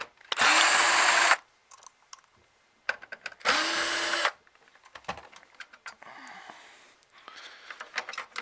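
A power drill unscrews screws from a VCR in two loud, close whirring bursts of about a second each, followed by quieter clicks and handling sounds.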